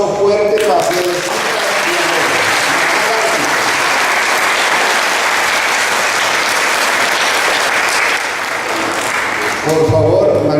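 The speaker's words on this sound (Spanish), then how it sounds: "un aplauso fuerte para Celestina." Loud, sustained congregational applause fills a church during Easter Mass, steady clapping lasting about ten seconds with voices briefly audible at the start and end.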